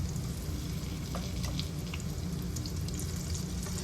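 Green tomatoes fry in an electric skillet with a steady, close crackling sizzle and scattered tiny pops of oil, continuous and even throughout with no voices.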